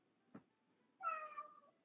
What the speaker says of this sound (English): Someone's cat had timing.